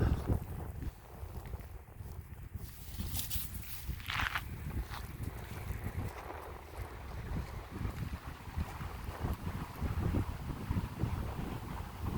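Gusty wind outdoors buffets the microphone with a steady low rumble and rustling, loud and continuous throughout, with no clear talk over it.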